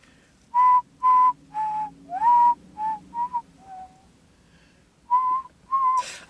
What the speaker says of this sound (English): Let's do a slow whistle